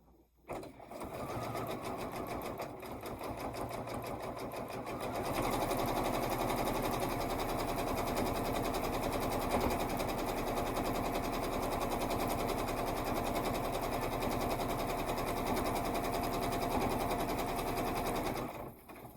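A sewing machine stitches quilt pieces together continuously at a steady fast whir for the whole stretch, close and even, with no talking.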